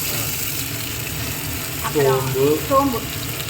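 Ground coconut and dried red chili paste hits hot oil already crackling with cumin and mustard seeds, giving a steady loud sizzle with a few bursts of sputtering and stirring near the end.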